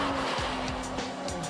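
A turbocharged car accelerates hard. The engine roars continuously and close, with a rising, strained tone.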